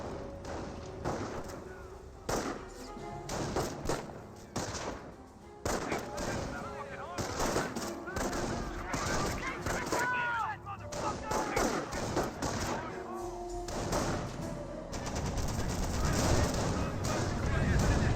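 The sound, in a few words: gunfire in Company of Heroes video game battle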